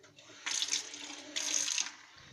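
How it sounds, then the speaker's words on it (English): Potato plants are watered in two separate bursts of pouring water, each a close, bright splashing gush lasting about a second with a short quiet gap between them. No one talks. "Actually, they're going to get a bit more water now."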